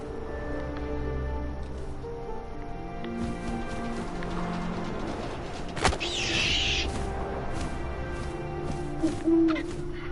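Owl hooting as a storytelling sound effect, a few soft hoots over a steady windy, rustling nature background with a brief creak-like sound midway; no talking.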